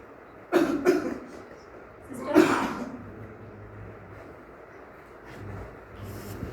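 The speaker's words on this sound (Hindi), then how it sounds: "इनकी खांसी तो ठीक ही नहीं होती" Two harsh coughs ring out close by, a couple of seconds apart, followed by quieter breathing and a faint cough later against soft background noise.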